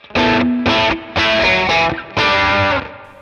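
Distorted electric guitar rhythm tone through a Sonicake Matribox II Pro strums chords in a choppy rhythm, loud and close, with short gaps between bursts and no voices.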